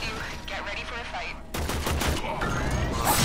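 Warframe gunfire: after a moment of quieter game sound, a loud, dense fusillade of rapid shots breaks out and keeps going to the end.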